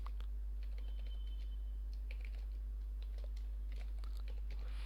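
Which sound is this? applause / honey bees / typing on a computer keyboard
typing on a computer keyboard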